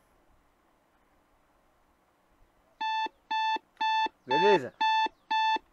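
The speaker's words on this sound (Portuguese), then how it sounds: "O despertador tocou, 10 horas" Alarm clock in the video game My Summer Car rings with six evenly spaced electronic beeps after a quiet stretch, loud and close; a voice speaks briefly over one beep.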